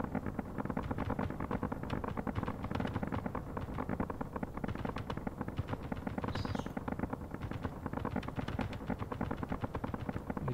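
Dense, continuous rapid gunfire from a gun in the space game Space Engineers, loud and rhythmic bursts running throughout with a sustained rumbling bed and no talk.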